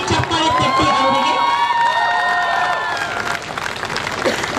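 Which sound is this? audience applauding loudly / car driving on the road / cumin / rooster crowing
audience applauding loudly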